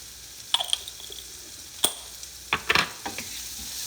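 Shrimp sizzling softly in a frying pan while a utensil scrapes and taps the pan in a few quick back-and-forth strokes, close and fairly quiet with a steady sizzle underneath.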